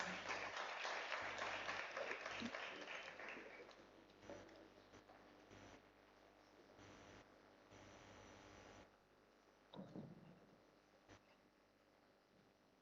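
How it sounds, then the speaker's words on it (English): Audience applause at a summit event, a broad wash of clapping loud at the start that thins and fades over several seconds, leaving scattered claps and room noise. "We have a huge round of applause for Fahad"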